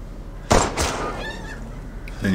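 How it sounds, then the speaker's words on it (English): A chicken in Resident Evil Village squawks and clucks amid sudden loud in-game thumps, the bird calls short and harsh, fairly near over a steady game soundtrack. "What happens if I kill a chicken?"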